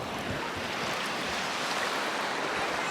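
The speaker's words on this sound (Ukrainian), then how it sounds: "Так далеко чути цю річку, воно так шумить." Steady broadband rushing of fast, icy river water over rapids, loud and continuous, with no voices.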